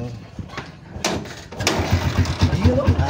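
Engine cranks and catches after a couple of short clicks, then settles into a rough, pulsing idle close by, with people talking over it.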